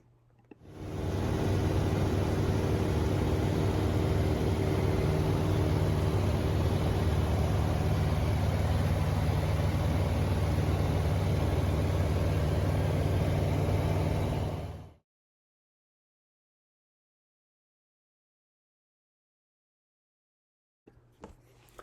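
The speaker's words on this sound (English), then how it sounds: "Nothing happens fast in a J3, but the engine was happy and purring along" A J3 Piper Cub's engine drones steadily in flight, a loud, unbroken close hum with wind rush that holds for about fifteen seconds, then cuts to silence.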